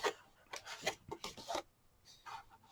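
Paper being scored with a scoring tool in short, quick scraping strokes, several rapid rasps in a cluster followed by a few softer ones, faint and close.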